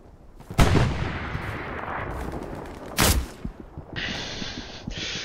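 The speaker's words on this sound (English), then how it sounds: "someone just took a shot at me" Gunfire in the World War II shooter game Hell Let Loose: two sharp, loud nearby shots about two and a half seconds apart over a rumbling battlefield, with scattered distant cracks and a brief electronic tone near the end.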